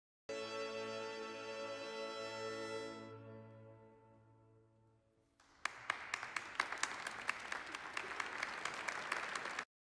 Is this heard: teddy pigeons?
no